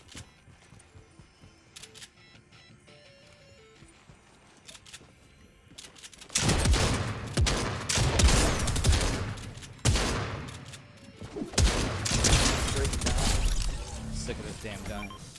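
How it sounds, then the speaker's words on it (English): Rapid bursts of super auto shotgun fire in a Fortnite match, loud and close, coming in dense clusters over the second half after quieter game sounds, with a player talking over it. "Sick of this damn gun. It's bow, bow, bow, bow. Super auto shotgun."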